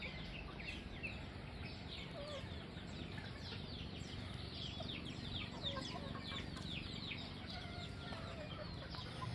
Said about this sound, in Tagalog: Ito naman guys yung mga manok natin